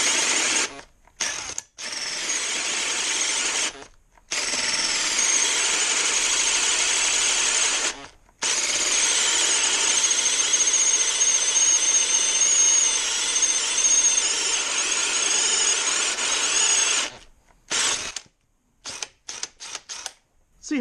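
Greenworks cordless drill boring a 2 1/4 inch hole, a loud, sustained whirring grind with brief pauses, then short stop-start bursts near the end.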